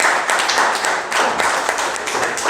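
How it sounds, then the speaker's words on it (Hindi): A crowd claps steadily and fairly loudly, dense overlapping hand claps with no pause. "जोरदार ताली"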